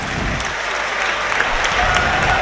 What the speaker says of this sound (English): Everyone around us applauding.